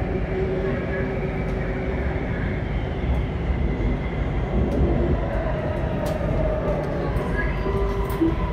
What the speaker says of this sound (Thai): Train doors open on the left